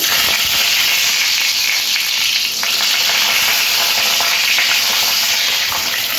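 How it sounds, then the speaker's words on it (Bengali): Pieces of pointed gourd frying in hot oil that was already used for potatoes, a loud, dense, continuous crackling sizzle heard close up without letup. "এই একই তেলের মধ্যে পটলের টুকরোগুলো ভেজে নিচ্ছি।"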